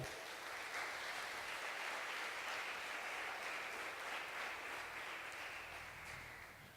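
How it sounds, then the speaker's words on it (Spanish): A church congregation applauds during a service, with steady, uniform clapping from many people that is heard at a distance and quietly, holding level before easing off slightly. "Dale un aplauso a Jesús."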